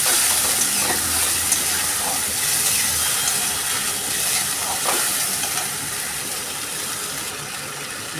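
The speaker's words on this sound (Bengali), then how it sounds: "মশলাটাকে কষিয়ে নেব।" A masala paste of onion, ginger, garlic, green chili and tomato fries loudly in a pan, a steady dense sizzle and hiss with occasional stirring scrapes throughout, no voices.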